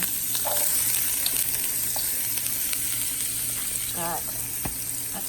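Onions frying in a hot pan, a continuous sizzle with light clatter and a brief squeak near the end, under a faint steady hum.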